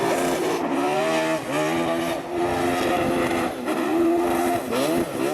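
V8-powered Mini race car at the LZ World Tour show, its engine revving and bouncing through repeated rising and falling pitch sweeps, loud and close, with brief dips between pulls.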